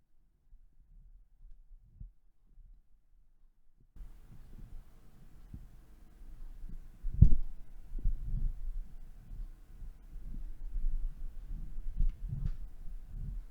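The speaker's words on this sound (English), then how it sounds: "I'm just going to move the microphone side to side, up and down, just so you can get a gauge of what it's like with handling noise." A microphone on a FiFine BM88 low-profile mic arm is moved side to side and up and down, giving quiet low rumbles, soft bumps and a few sharper knocks that grow busier partway through.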